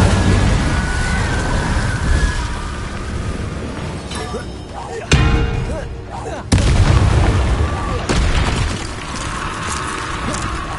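The Incendio fire spell is cast in Hogwarts Legacy, heard as loud booming, explosive magic blasts with sharp bursts over dense game noise, while a voice speaks over the action.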